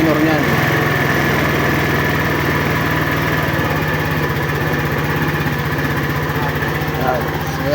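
A Honda Beat fuel-injected scooter engine idles after a fuel injection cleaning, with a steady, close, throbbing putter that holds an even rhythm throughout.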